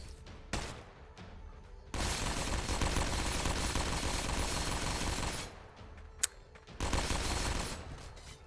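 Paired Desert Eagle pistols in the VR game Blade and Sorcery fire a couple of sharp single shots, then a long dense burst of rapid fire, a pause with a lone crack, and another burst, fairly close.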